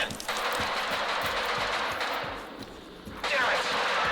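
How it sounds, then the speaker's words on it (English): Sustained rapid gunfire in the video game Stalker 2: Heart of Chornobyl crackles continuously with bursts of shots, loud and dense, with a brief dip before it surges again. "Is that gunfire over there?"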